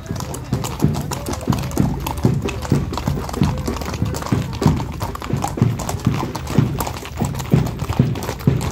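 Horse hooves clip-clop steadily in a village horseback parade held for a patron saint festival, a loud, close, continuous rhythm of many hoofbeats over crowd and street noise.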